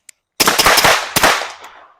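Suppressed firearm shots from a short-barreled gun crack close by in a quick burst of about four rounds, a short pause, then one more, each with a dull muffled report and a brief decaying tail.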